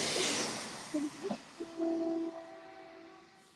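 Train passing at a distance with a rushing rumble and a short horn blast fading away, faint under brief indistinct voices.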